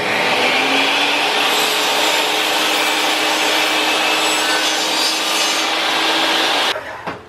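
A saw makes a 15-degree bevel cut through wood with a loud, steady, rasping whine that holds for several seconds and then cuts off abruptly.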